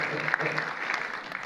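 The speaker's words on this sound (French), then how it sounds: "Est-ce qu'on peut juste applaudir d'abord avant" Audience applause at a church-related book presentation, a steady mass of clapping that carries evenly through the whole moment at moderate, slightly distant level.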